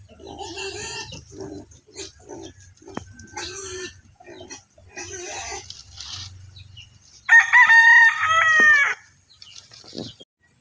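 A rooster crows loudly and close by near the end, after a stretch of scattered clucking and calls from chickens in a backyard flock, with low rumbling noise underneath.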